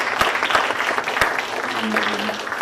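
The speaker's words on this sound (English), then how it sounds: "Let's have a round of applause for our panelists." Audience applause for a panel of fellows at a homecoming fellowship event, a steady wash of many hands clapping close by, sustained and fairly loud throughout with no talk over it.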